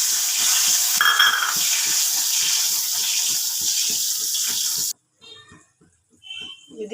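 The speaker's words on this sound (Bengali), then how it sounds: "এবার জল দিয়ে দিলাম।" Water poured into a kadai after black cumin has been tempered in oil, a loud rushing hiss and sizzle that runs steadily for about five seconds and stops abruptly, leaving faint clinks and bubbling.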